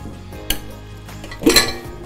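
Pots and pans clank in a kitchen as someone lights the stove and starts cooking with butter in a pot, two brief metallic clatters, moderately close, with no talk.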